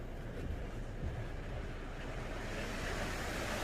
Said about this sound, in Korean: 역시 최신 자동 세차 기계라서 그런지 물줄기가 엄청납니다